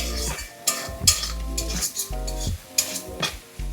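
Prawns seasoned with salt and turmeric are stirred in a pan for a Bengali bottle gourd and prawn curry. A utensil scrapes and clinks against the metal pan in uneven strokes over a light sizzle, close up.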